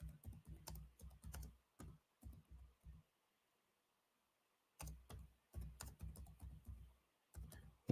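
Typing on a computer keyboard: fast clusters of light clicks and taps come in uneven bursts, broken by a couple of seconds of near silence before the tapping resumes, close and fairly quiet.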